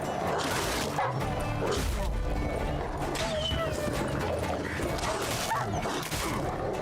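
In The Witcher 3, dogs bark and yip repeatedly amid the game's fight noises, with clanks, thuds and hooves mixed in, the whole scene loud and busy, and a faint voice may be present.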